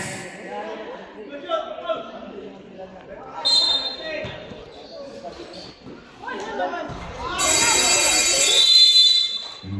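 Amid crowd noise, basketball bounces and talk in a gym during a fiesta championship game, a loud electronic buzzer blares for a couple of seconds near the end, marking halftime.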